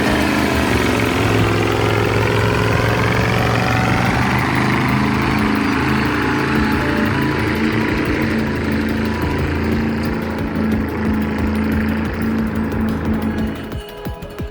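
A heavy recovery truck's 900 HP Caterpillar engine in the desert runs loud and close with a steady, deep rumble and no voices, then falls off sharply in the last second.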